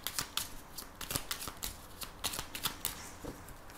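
A deck of Lenormand cards is shuffled by hand for a divination reading, a rapid run of close, crisp riffling flutters and soft slaps continuing throughout with no talking.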